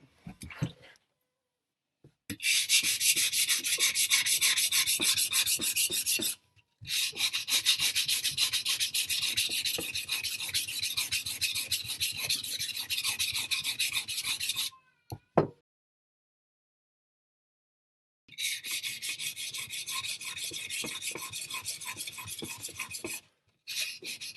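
A chef knife is sharpened on a 1200 grit whetstone with long, steady rhythmic rubbing strokes, close and loud. The strokes come in sustained stretches separated by brief silent pauses, with no talk.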